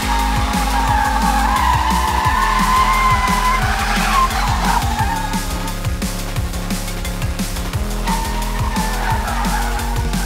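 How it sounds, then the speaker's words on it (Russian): A VW Scirocco drifting sideways, its tires squealing and skidding almost without a break over a steady engine drone. The sound is loud and close, with no talk. "попытки пустить сирока в занос"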